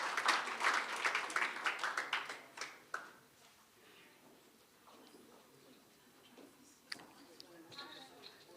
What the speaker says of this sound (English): Please make a round of applause and some noise for Sue as she makes her way forward